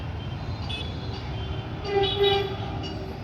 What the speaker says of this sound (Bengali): এই আরেকখানা মেট্রো চললো।